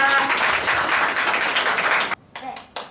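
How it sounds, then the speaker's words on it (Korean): An audience at a community presentation on shared refrigerators claps in a brisk round of applause that stops abruptly, followed by a few scattered late claps. "박수 부탁드리겠습니다."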